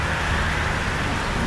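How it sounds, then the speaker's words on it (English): Rain begins falling outdoors around a woodland shelter camp, a steady close hiss of drops that holds evenly without any break. "it's starting to rain."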